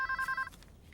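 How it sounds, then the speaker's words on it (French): An old-style telephone bell trills in rapid pulses, bright and fairly close, then stops abruptly after half a second with only quiet room tone left. "Je devrais couper ce téléphone."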